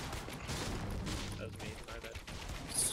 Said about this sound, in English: Someone shooting at your house